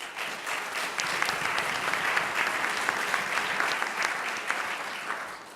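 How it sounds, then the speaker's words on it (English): A crowd at a mayors and business leaders breakfast gives a steady round of applause for Mayor Kautz, dense and even throughout, with no voices above it. "So one more round of applause for Mayor Kautz"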